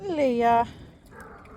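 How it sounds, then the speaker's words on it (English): Dog at a concrete basement floor pour, a single loud whining yelp with a falling pitch, followed by quieter background noise and a faint voice. "And here's my dock dog,"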